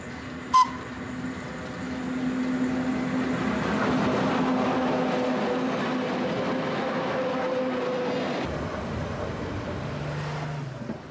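Green and cream electric railcars of the Biasca-Acquarossa railway in Switzerland, heard as a steady rolling rumble and motor drone of a passing railcar building then fading, with a short clank near the start, no talk.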